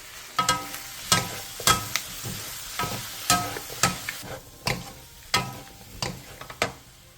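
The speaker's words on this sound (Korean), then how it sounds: "마지막으로 올리고당 1스푼, 들기름 1스푼, 통깨, 청양고추, 대파를 넣고 1분 정도 가볍게 더 볶아주세요." Kkanpunggi made from leftover chicken is stir-fried with oligosaccharide syrup, perilla oil, sesame seeds, cheongyang chili and green onion, giving a light sizzle punctuated by regular scraping clatters of a utensil against the pan, close and without talk.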